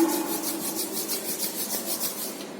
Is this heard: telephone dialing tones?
no